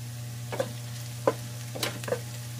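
Fish frying in a pan for escabeche: a soft steady sizzle under a low hum, with a few scattered clicks and scrapes from the utensil, close by and with no voices.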